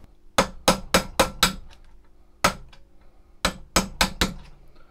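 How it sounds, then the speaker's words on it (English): Nine sharp metallic hammer strikes on a chisel driven between drilled holes in steel held in a vise, in a quick group of five, a lone blow, then three more, loud and close with ringing decay. "hit between there with a chisel or a screwdriver, and then start filing it"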